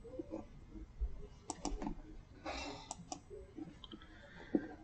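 Computer mouse clicks sounding faint and close, a few scattered taps with quiet gaps between them.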